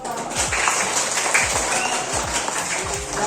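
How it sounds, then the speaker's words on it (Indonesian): A classroom of students applauds a student's answer with sustained, loud, dense clapping that carries through the whole stretch, with faint voices mixed in. "Tepuk tangan untuk Bapak."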